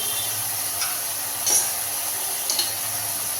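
Vegetables including cauliflower with dried red chilli powder being mixed in a pan for a Tamil kadamba kuzhambu, a soft steady sizzle with a few brief stirring scrapes near the middle and end.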